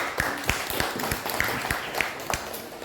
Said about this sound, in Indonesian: Silakan kita beri tepuk tangan.